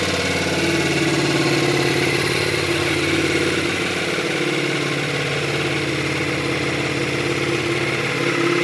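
A motorcycle engine idles steadily and loudly nearby during riding practice, a continuous rumbling throb with no clear revving, heard on its own.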